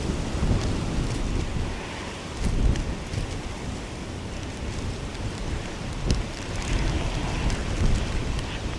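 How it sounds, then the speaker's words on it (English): Strong wind gusts roar and buffet the microphone at Dublin Airport, a steady loud rush of wind with rain swelling and easing in waves, no voices. "the wind has blown me everywhere"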